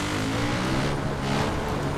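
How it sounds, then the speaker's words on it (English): Quad bike engine in Far Cry 5, chasing a helicopter; a close, steady, buzzing engine drone with a slight rise and fall in pitch, and no talk. "Following a helicopter on a quad bike."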